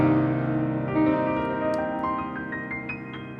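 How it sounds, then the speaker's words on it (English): A minor seventh chord rings out on piano, its sustained notes layered and slowly decaying with a few higher tones added, close and mellow with no talk. "minor 7th chords are a really beautiful way of coloring a minor chord"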